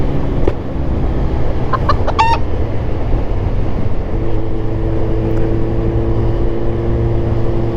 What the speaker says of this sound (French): Donc voilà les poulets,